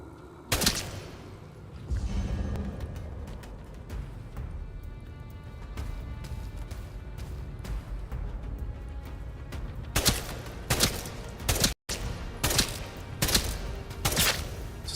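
Rifle gunshots in a video game: a single loud shot early on, then a burst of several sharp cracks near the end over a steady low game rumble, with no talking.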